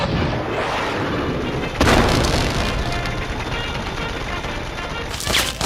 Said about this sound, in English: I'm gonna switch to my missile launcher.